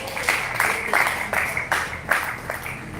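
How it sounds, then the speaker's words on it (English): Audience clapping at a live business hangout event, a burst of applause rising and falling in several uneven waves, moderately loud and fairly close, with no talk over it. "I thought you want to clap"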